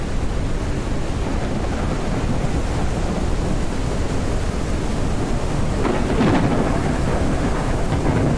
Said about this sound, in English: Caution. A storm is coming.